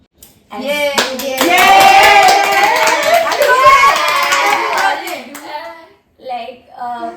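A group claps and cheers loudly from close by at a casual gathering, with children's voices mixed into the steady burst of hands that lasts several seconds before dying away, followed by short bits of talk.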